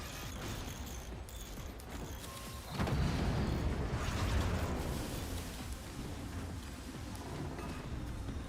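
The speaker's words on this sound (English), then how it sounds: "That's triple cannons." Triple cannons firing in the naval battle game Forts: a loud, dense rumbling boom swells in near the third second and holds over a continuous clattering mechanical din, then slowly eases back.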